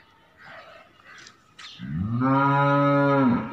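A cow gives one long, loud, low moo close by, preceded by a few faint, scattered background sounds.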